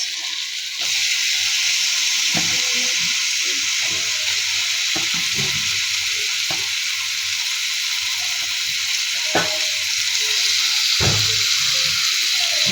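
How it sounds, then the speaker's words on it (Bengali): Mola fish frying in a pan of cooked-down spiced masala, a steady loud sizzle running throughout with a few sharp clinks and stirring knocks. "দিয়ে দিব মলা মাছ।"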